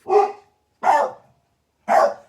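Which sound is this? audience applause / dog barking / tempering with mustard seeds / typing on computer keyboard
dog barking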